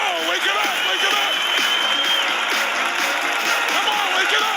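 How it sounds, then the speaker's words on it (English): An audience clapping hands in unison at an energetic summer event, a dense steady wash of applause under an excited voice calling out. "All right, then let's clap."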